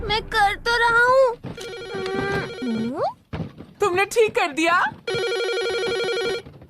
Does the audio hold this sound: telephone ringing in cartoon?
yes